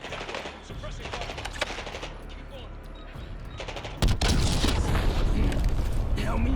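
Suppressing gunfire in the Black Ops 6 campaign: dense bursts of automatic fire crackle under battle chatter, then swell into a louder, closer barrage for the last couple of seconds.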